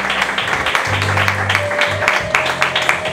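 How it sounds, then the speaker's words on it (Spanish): An audience applauds jury member Tony Ball at a music contest gala, steady scattered clapping running throughout alongside a voice speaking over it and low musical tones. "Pido un fuerte aplauso para Tony Ball"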